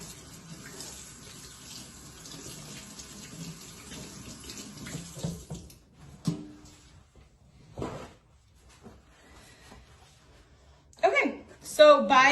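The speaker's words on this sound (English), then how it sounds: "So I'll just wash my hands before I get in there." A kitchen tap runs steadily while hands are washed, a soft continuous water rush followed by cupboard knocks and brief clatters, with a person talking intermittently.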